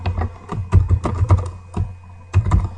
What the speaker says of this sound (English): I simply type in the game name